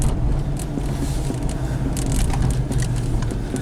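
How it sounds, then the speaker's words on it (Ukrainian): Steady road and engine rumble from inside a moving Citroen C4, with light intermittent rattling and knocking from the trunk lid mixed in throughout. "кришка багажника, чую гримить"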